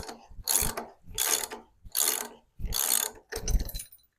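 A three-bolt puller works on a Ford 390 FE engine during a rebuild, giving five evenly spaced bursts of ratcheting clicks, each roughly half a second long, close and fairly loud with no speech.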